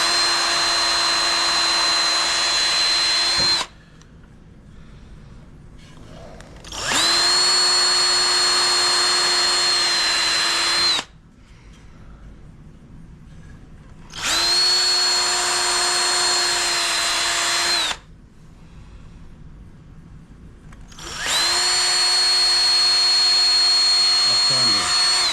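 Cordless power drill boring pilot holes into the corners of a woodworking project, three separate whirring bursts of a few seconds each with quiet pauses between, close and loud, with people talking.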